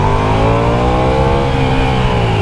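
A Ducati Diavel V4 motorcycle engine pulls hard under acceleration, a loud, close, sustained growl with steady harmonic tone that holds strong throughout without a break.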